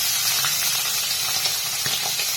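Fish fries in hot oil, giving a continuous moderate sizzle with small crackles and spits throughout and no talk.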